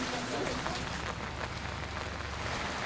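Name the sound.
rain falling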